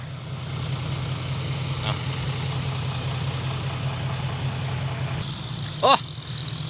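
A tractor engine runs at a steady low idle with an even rumble, close by, and a short squeak near the end.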